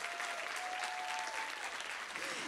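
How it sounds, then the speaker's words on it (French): An audience applauds steadily at the opening of a conference on women in power and influence, welcoming a guest onstage with dense, sustained clapping that fills the room at an even level, while a faint tonal whine drifts underneath. "je vous demande d'accueillir avec un tonnerre d'applaudissements"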